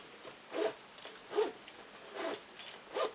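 A zipper on a pair of zip-up shorts is worked in short rasping pulls, four distinct zips spaced roughly evenly, close and fairly quiet with no talk.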